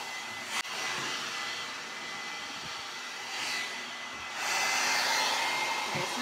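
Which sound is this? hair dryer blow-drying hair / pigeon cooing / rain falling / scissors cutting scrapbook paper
hair dryer blow-drying hair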